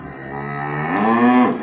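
A single long, loud cow moo, rising in pitch toward the end, close by.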